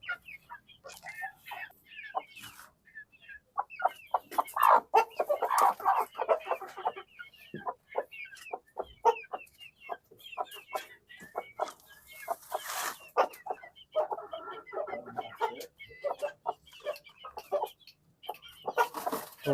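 A hen clucks repeatedly while being released beside a clutch of eggs for brooding in summer, with short, uneven bursts of clucking and occasional fowl calls, close and moderately loud throughout.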